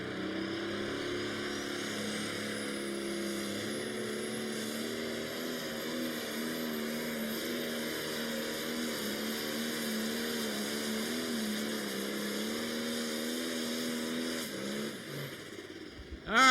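A red Avenger pulling tractor's engine roars in a steady, loud, sustained drone at an outdoor tractor pull, holding a constant pitch through the run before a sudden burst at the very end.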